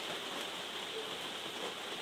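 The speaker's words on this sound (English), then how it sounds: "Yeah, because it always rains where I am" Steady rain hisses in a video game world, an even, constant wash of falling water at low volume with no other sounds.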